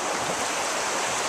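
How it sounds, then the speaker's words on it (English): Rushing river rapids roar in a steady, dense wash of turbulent water from a canoe, loud and close with no pauses. "Oh, we got rapids."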